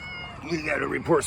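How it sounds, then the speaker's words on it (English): A stray cat that has just crossed a road meows close by in a short, plaintive call, with a voice talking over it outdoors. "Got this cat ran across the road to come and see me."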